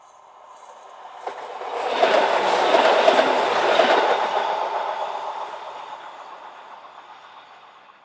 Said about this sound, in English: Class 663 units led by number 1001 head train R4814 from Novara to Biella.